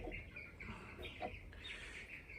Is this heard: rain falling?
no